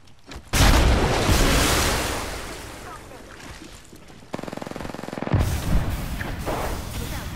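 A frag grenade detonates in Apex Legends amid a firefight, a loud broadband boom at the start followed by a sustained roar, then a later burst of rapid gunfire continuing to the end.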